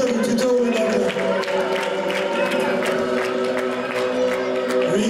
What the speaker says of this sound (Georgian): გავაცილოთ აპლოდისმენტები თითოეული ბავშვი.